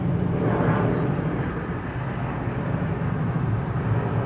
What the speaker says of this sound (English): Back to our Copa Airlines 737.